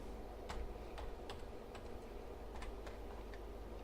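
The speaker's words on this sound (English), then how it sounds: "Just press the up arrow, it gives me keyboard history." Keystrokes on a computer keyboard while logging into a Raspberry Pi running OctoPi for a 3D printer: a handful of sparse, separate clicks spread over a steady low background hum.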